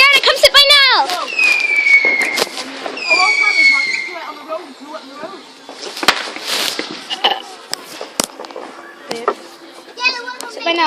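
Firework rockets on Bonfire Night whistle and pop with scattered crackling bangs, some near and some distant, under excited children's voices and adult talk.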